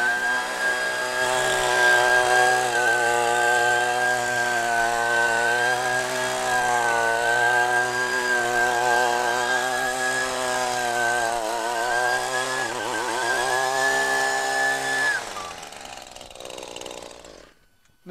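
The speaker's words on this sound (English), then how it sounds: "here we have it as a blower." A convertible string trimmer fitted as a leaf blower runs with a loud, steady two-stroke engine whine and blowing rush, rising and falling slightly in pitch, then cuts off and winds down near the end, with no talk.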